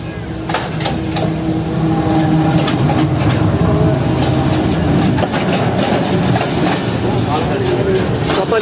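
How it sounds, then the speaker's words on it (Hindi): Passenger train of the Khyber Mail, Karachi to Rahim Yar Khan, rolling on the tracks after departing a railway junction station, with a steady, loud rumble, clattering wheels and occasional clicks throughout, and voices talking faintly underneath. "तो ठीक 10:50 पर ट्रेन ने डिपार्ट किया है डिग रोड जंक्शन रेलवे स्टेशन से।"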